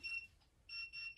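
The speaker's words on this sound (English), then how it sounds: "you can hear it beeping." A TIS 870 plug-in socket tester gives quiet high-pitched electronic beeps on detecting non-contact voltage, two or three in quick succession, faint against a low background hum.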